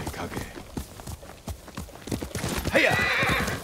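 Hooves clip-clopping in quick succession from a horse in the video game Ghost of Tsushima, followed by a bright whinny near the end, with a voice speaking over part of it.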